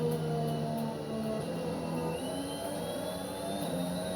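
An F1 car in a racing video game screams at full throttle through the Parabolica at Monza, a loud sustained engine drone with steady harmonic tones holding throughout, no speech over it.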